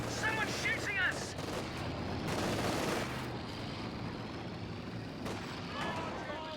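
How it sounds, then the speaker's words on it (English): Gunfire in a video game during a playoff tournament match: repeated shots and heavier booming blasts come in bursts, mixed with rumbling battle noise, while a commentator talks over the action. "Someone's shooting us."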